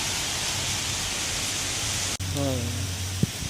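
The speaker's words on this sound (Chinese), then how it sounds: "眼看着离旅馆还有2-3分钟路程了啊，结果下大雨了" Heavy rain pouring down on a street in Thailand, a dense, loud, constant hiss of downpour filling the scene, with a person's voice briefly audible near the end over the roar.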